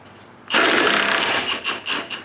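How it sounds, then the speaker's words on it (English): A tool loosens the 16 mm nut on the front control arm bolt of a 2009–2016 Audi B8, giving a sudden loud, rattling hammering burst close by that pulses unevenly before cutting off. "So this is a 16 millimeter. I'm going to take the nut off first."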